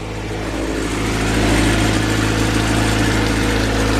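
A Honda B18C Type R engine fitted with a GT3582R turbo idles steadily with a low, even hum, swelling slightly around the halfway point as the turbo spools, close and continuous with no talk.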